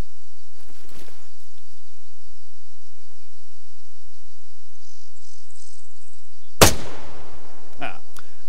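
A single sharp rifle shot from the military game Arma 3 cracks out loud and close after a long stretch of near silence, then fades into a brief ringing tail.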